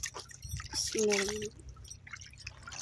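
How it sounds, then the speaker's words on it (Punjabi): Hands being washed with collected rainwater in a rural Punjabi village home: intermittent close dripping and splashing, with someone talking over part of it. "ਹੁਣ ਨਾ ਮੈਂ ਇਸ ਪਾਣੀ ਨਾਲ ਹੱਥ ਧੋ ਲੈਂਦੀ ਹਾਂ"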